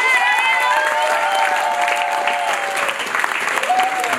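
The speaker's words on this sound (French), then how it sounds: "Si vous êtes contents, vous pouvez applaudir très fort" Loud, sustained applause from wedding guests at a Congolese civil wedding ceremony in Troyes, steady clapping filling the room for about four seconds with a faint tonal line running through it.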